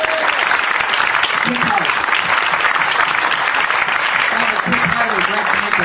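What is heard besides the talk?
audience applause for comedian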